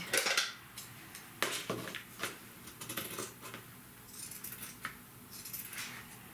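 Stiff scissors snipping through a scrapbook album structure, a series of close, sharp cutting crunches at irregular intervals over a quiet background, with no talk.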